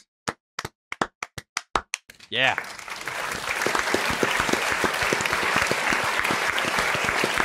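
A few separate claps ring out, then a sustained burst of loud applause and clapping fills a podcast room, steady to the end with a voice briefly audible.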